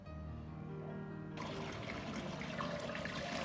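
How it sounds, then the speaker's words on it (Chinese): Running water pours over soaked dried chili peppers, starting softly and then swelling into a steady, close gush of rinsing. No voices. "把浸泡过的辣椒控干水分，然后再用清水稍微多冲洗2遍"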